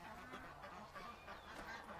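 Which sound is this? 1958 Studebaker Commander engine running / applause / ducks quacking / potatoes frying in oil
ducks quacking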